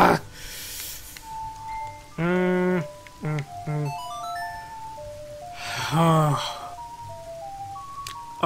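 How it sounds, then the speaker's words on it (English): The Song of Double Time plays as a short melodic phrase of bright notes in Majora's Mask, followed by a sweeping warp-like effect. Chiming single tones and shimmering bursts sit over faint game ambience. "that's the song of double time,"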